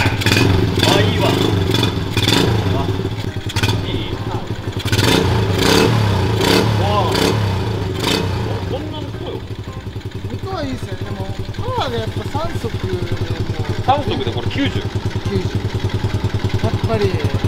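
A motorcycle on a group touring ride starts up, then revs in repeated loud bursts before settling into a rough, rapid idle, heard close and dominant throughout.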